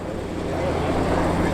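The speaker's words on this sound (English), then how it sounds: "a very distinctive sound of the air-cooled 911 as opposed to the water-cooled newer cars" An air-cooled Porsche 911 Targa, an E-plate car from around 1986–87, runs with a steady engine rumble at a car meet, its low drone holding level throughout amid ambient crowd noise.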